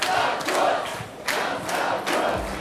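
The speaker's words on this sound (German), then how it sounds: "Für die Innenpolitik steht aber eher Bundeskanzler Sebastian Kurz, wird heute mit Sprechchören gefeiert." A crowd chanting and cheering in celebration of Austrian Chancellor Sebastian Kurz on EU election night, rhythmic swells of massed voices rising and falling in waves, loud and close.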